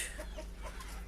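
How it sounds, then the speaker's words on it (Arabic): Soft clucking from a rooster among a flock of chickens kept for sale, a few short low calls spread over a steady background hum, heard at moderate distance without speech. "هذا هم ديك"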